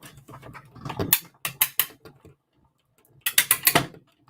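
A die-cutting machine crunches and crackles as a card passes through its rollers, in two loud bursts of sharp snapping clicks separated by a short quiet gap.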